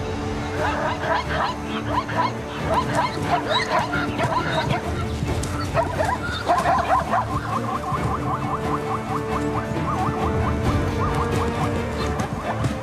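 African wild dogs bark, yip and whimper in a dense, continuous chorus during a zebra hunt, close and loud throughout, with some rustling movement beneath.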